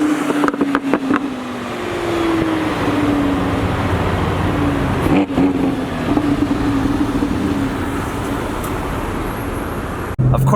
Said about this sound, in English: a Lambo comes up right next to me